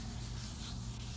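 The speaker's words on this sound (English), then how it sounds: "you can still get it out by pattern sanding and just remaining light with your sanding" Light hand pattern sanding on the painted body of a 1967 Porsche 911 takes off orange peel and dust nibs, giving a steady, soft, close scrubbing rasp with no breaks.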